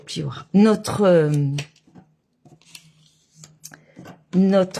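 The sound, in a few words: paper guillotine cutter (massicot) cutting card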